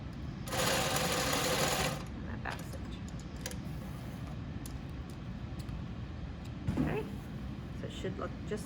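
A home sewing machine stitches across a shirt dart in one fairly loud burst of about a second and a half, then stops, leaving quiet room noise with a few faint clicks.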